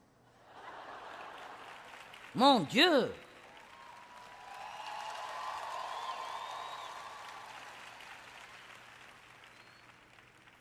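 Faint applause from a sermon audience swells softly in the background and lingers for several seconds, after a short exclaimed voice rises above a low hum.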